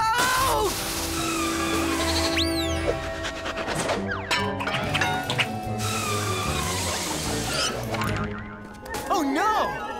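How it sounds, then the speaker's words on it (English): A cartoon baby mountain goat bleats in short wavering cries on an icy slope, mixed with loud animated sound effects, sliding boings and crashes, and no speech over it. "Little goat, stop, it's too icy."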